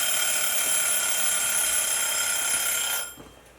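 Kitchen oven timer in a tiny house kitchen, set while rhubarb bars bake, rings with a loud, steady high electronic tone that holds for about three seconds, then cuts off.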